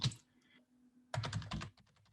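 Typing on a computer keyboard while starting a Python 3 HTTP server: a close, quick burst of key clicks at the start, a pause, then a denser run of taps and clatter near the end, with no talk.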